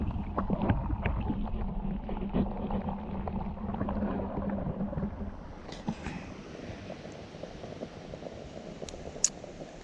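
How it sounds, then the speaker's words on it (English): Low gurgling and bubbling hiss from a moka pot on a twig-burning stove, dense at first and then thinning into soft crackles and sputters. "that's the sound of it bubbling up."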